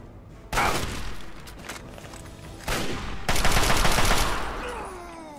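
Fallout 3 firefight with bursts of rapid gunfire, a long volley followed by a shorter one and then a heavy sustained burst, loud and close, trailing into a ringing echo with no one talking.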